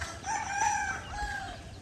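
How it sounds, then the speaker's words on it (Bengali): A domestic rooster at a rural Bangladeshi homestead crows once in a long, drawn-out call, close and clear, with no talking over it. "দেন যে মোরগের ডাক কি"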